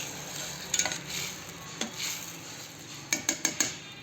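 Dal curry being stirred in a pan with a spoon, giving a few soft scrapes early on and then a quick run of four clear metallic taps near the end, over a faint steady background.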